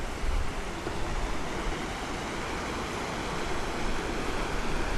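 Creek water flowing steadily through Box Canyon at low summer level, a dense continuous rushing wash that stays even and close throughout with no voices.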